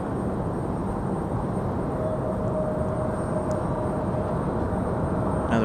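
An Airbus A220 airliner arriving at Raleigh-Durham airport gives a steady, moderately loud broadband roar that holds evenly throughout, with a faint tonal whine riding on top and no talking.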